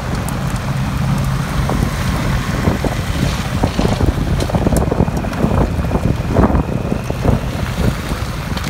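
Ferrari 488 GTB driving slowly over a rough stone road, a loud steady engine rumble with wind buffeting the microphone and scattered knocks and rattles from the bumpy surface, no voices.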